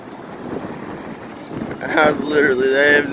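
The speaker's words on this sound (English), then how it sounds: "These waves are crazy." Huge ocean waves rolling in high winds, with heavy wind buffeting the microphone and a swelling surge of water building toward the end, while a person talks over it.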